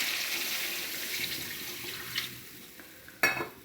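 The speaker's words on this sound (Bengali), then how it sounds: "জল দিয়ে দিলাম পরিমাণ মতো।" Water poured into a cooking pot of potatoes and pointed gourd for a tilapia fish curry, a soft running splash followed by a brief louder gush near the end, fairly quiet.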